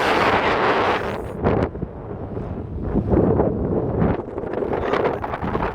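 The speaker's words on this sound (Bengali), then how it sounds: "সমুদ্র পাড়ে বাতাস।" Strong wind at the seashore roars continuously into the microphone, a loud broadband rush with buffeting gusts rising and falling throughout.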